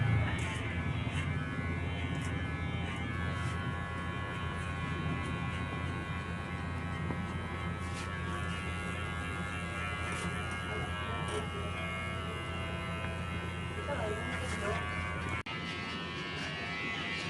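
Electric hair clippers buzzing steadily during a haircut, a continuous close mechanical hum with a faint tonal drone lasting throughout.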